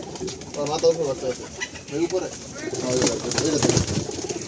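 Pigeons coo on a pigeon farm: soft, throaty coos repeat in overlapping bursts throughout, close by and mixed with ambient farm noise.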